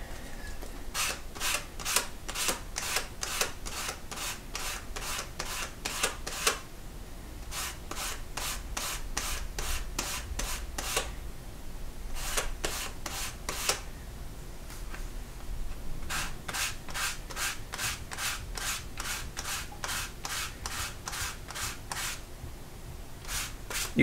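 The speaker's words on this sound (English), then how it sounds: "And now I'm going to sand, but I'm going to do it all in one direction, just to kind of push all these fibers down evenly." Sandpaper rubbed over leather in one direction, a steady series of quick rasping strokes in bursts with short pauses, close and fairly quiet.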